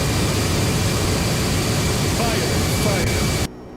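FlightFactor Boeing 767-300 jet roaring through its takeoff roll in X-Plane 12, a loud steady broadband engine rush that holds constant for over three seconds before cutting abruptly to a quieter hum.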